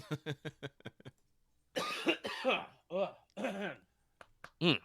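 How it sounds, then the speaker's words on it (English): A person coughs several times in a quick run, then talks between further coughs and throat sounds, close to the listener. "the moment my chest is like, hey, you need to cough"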